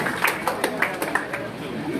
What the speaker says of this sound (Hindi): तालियां बजा दें इनके लिए जी